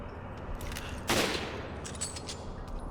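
Gunfire in Resident Evil 5, a single sharp loud burst of shots near the middle against a low game background hum, with faint clicks and effects afterward.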